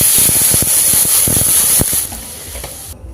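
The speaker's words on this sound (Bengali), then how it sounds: "এই কড়াইয়ের মধ্যে আবারও কিছুটা জল দিয়ে দিচ্ছি।" Water poured into a hot wok, bursting into a loud, close hiss and sizzle with crackling pops that eases into a softer steady simmer after about two seconds.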